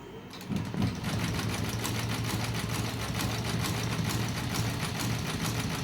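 A bead-embroidery sewing machine running steadily after a restart, stitching metal-type beads: a continuous fast mechanical whirr with a rapid needle pulse, close and fairly loud, with no talking.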